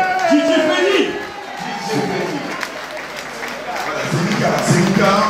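A festive crowd applauds and cheers for a DJ at his 33-years-of-mixing anniversary party, sustained clapping with whoops and shouts, loud and close, with voices calling out over it.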